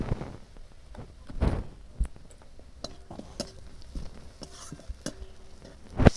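Chopped onions fried until reddish in a pan while turmeric powder goes in, with a soft sizzle under intermittent clinks and scrapes of a stirring spoon against the pan, loud knocks near the start and end.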